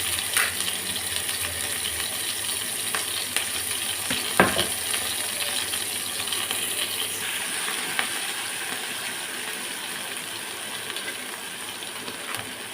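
Ginger and garlic paste sizzles in a pan with browned onions, a steady broadband frying hiss with a few sharp clinks and stirring scrapes, close and fairly loud, no voices.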